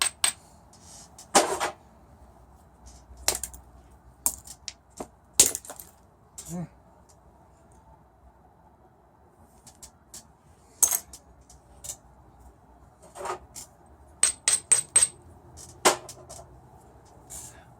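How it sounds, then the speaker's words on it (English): Stone being flintknapped, its edge ground back into a concavity and small flakes chipped off, heard as scattered sharp clicks and taps with quiet gaps between them, close and alone. "I'm going to grind back into the concavity, send small flakes to fill it."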